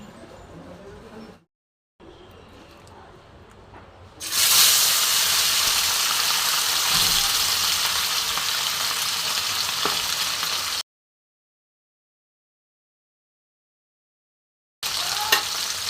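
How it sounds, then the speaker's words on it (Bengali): Small mourala fish rubbed with salt and turmeric drop into hot oil and erupt into a loud, steady sizzle that runs for several seconds, then cuts out and returns briefly, with no voices over it. "মৌরলা মাছগুলো আমি লবণ হলুদ মাখিয়ে নিয়েছি এবার আমি ভেজে নেবো"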